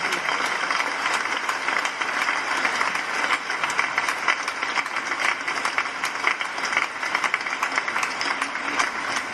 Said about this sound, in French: un petit applaudissement, ce serait pas mal